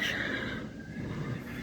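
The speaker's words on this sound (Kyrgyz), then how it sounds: "Белдүү жылкы экен, мына узун жылкы." A tall, thin horse with visible ribs gives a brief, fairly quiet whinny that rises and then trails off over about a second and a half.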